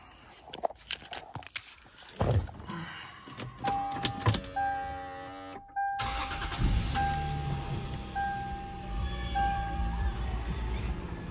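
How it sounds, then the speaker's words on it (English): Keys rattle and clicks, then the engine of a 2004 Lexus GS 300 cold-starts, cranking and catching, settling into a steady idle with a high warning chime beeping repeatedly. "Start this thing, give this thing a cold start."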